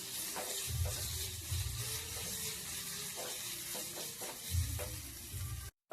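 Green chillies, coriander and ginger sizzle and crackle steadily in hot oil for Bombay-style vada pav, with stirring scrapes and a few louder bursts, close and continuous with no talk.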